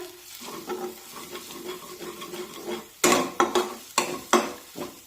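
Turmeric and red chilli powder sautéed in oil give a continuous sizzle, then sharp scraping and clanking strokes of a spoon against the pan in the second half, with no talking.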